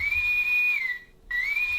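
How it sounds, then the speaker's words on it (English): Ship's whistle effect from a 2022 Playmates USS Enterprise toy: a loud, steady electronic whistle tone that dips, breaks off briefly, then resumes and rises again, heard alone. "that is the ship's whistle."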